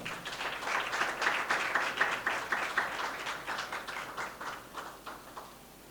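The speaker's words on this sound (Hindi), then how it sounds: "यीशु मसीह के लिए तालियां बजाएं।" A Pentecost Sunday church congregation claps for Jesus Christ, rhythmic, fairly soft clapping at a brisk pace, continuing steadily and easing slightly near the end.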